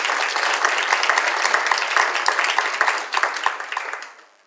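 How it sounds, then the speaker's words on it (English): Conference audience at a sickle cell disease event breaks into applause, steady and fairly loud, then trailing off into a few last claps and silence. "Give them an applause."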